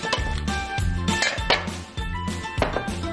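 Chopped food is scraped and dropped into a bowl in a kitchen, giving a quick series of close clinks and knocks of a utensil against the dish in an uneven rhythm, with no talking.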